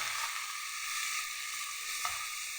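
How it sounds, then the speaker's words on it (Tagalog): Fried rice sizzles steadily in a frying pan as it is sautéed, a continuous bright hiss with a small clatter of stirring near the two-second mark, no voices present. "Ginigisa-gisa sa kala, kawali."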